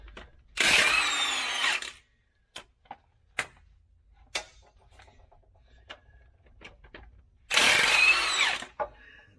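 A power tool whirs in two short, loud bursts, removing the 18mm clutch fork bolts on an Eaton Fuller 10-speed truck transmission, with scattered metallic clicks and taps between them.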